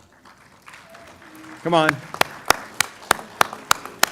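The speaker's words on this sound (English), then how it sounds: "Graduates, would you right now please stand up, turn around, and face those that came here for you today and applaud them." Graduates at a Texas A&M University at Galveston commencement ceremony turn and applaud their families, sharp claps picking up after a voice speaks, with a run of distinct loud claps spaced through the second half.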